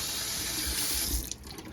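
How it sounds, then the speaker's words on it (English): Tap water pours steadily into a colander of soaked beans in a kitchen sink, a close, continuous splashing hiss that thins and breaks up near the end as the flow shifts. "I'm gonna rinse them a little more in this colander right here."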